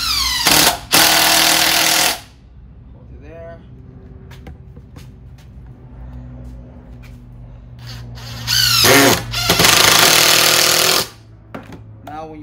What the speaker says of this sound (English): Drilling all the way through the other piece of wood, it's not gonna come apart.